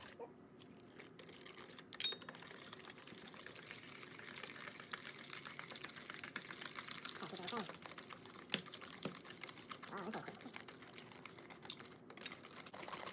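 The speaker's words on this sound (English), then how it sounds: "We're gonna whisk 1 egg at a time into the mix." Eggs being whisked one at a time into carrot cake batter, four in total, giving a steady, fairly faint run of light clicking and scraping strokes that continues throughout.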